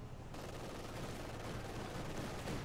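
Sustained, dense bursts of machine-gun fire from a German auto-cannon half-track in Company of Heroes 2 rattle loud and close. The shots run almost without pause for the whole stretch.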